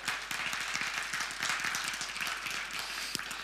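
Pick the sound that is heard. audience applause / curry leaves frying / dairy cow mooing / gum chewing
audience applause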